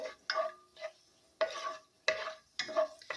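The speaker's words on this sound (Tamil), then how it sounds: "எப்பயுமே முந்திரியை வறுக்கிறப்ப நிதானமான தீயில் வச்சு வறுக்கணும் அப்போ தான் வந்து அது கிறிஸ்பியாகவே இருக்கும்" Cashews roasting in a pan over a low flame, soft separate bursts of stirring and scraping about every half second with brief light crackle, quiet and close with pauses between strokes.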